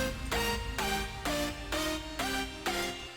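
An electronic track's breakdown plays without its sub bass: a thin sequence of synth chords pulsing in regular bars, with no low-end weight.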